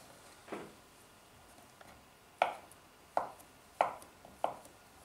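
A knife chops on a cutting board as cheese is sliced for a Bulgarian dish, five sharp, close taps spaced unevenly in a quiet kitchen.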